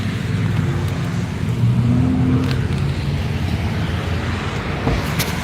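A car drives along a road with a steady engine and tire rumble, loud and continuous throughout, with occasional faint knocks.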